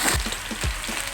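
Potatoes frying in a pan for a radish-leaf bhujiya, giving a steady close sizzle with a few soft stirring knocks and no voices.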